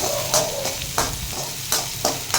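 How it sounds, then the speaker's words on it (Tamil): Big onions frying in oil with cumin in a kadai, a steady close sizzle with periodic louder bursts of spoon stirring scraping through the hiss, no voices. "கடாயில் எண்ணெய் ஊற்றி சீரகம் போட்டு, சீரகம் பொரிஞ்சதும் பெரிய வெங்காயத்தை போட்டு நல்லா கோல்டன் ப்ரௌன் ஆகிற மாதிரி வதக்கணும்"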